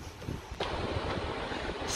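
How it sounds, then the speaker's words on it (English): Gusty wind in Inverness, Scotland, buffets the microphone with a low, rumbling roar that swells sharply partway through and stays strong, with no voices. "It's windy, isn't it? A bit windy."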